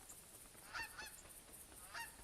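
A few geese honk faintly in the distance, two or three short nasal calls spaced apart over a steady outdoor hiss.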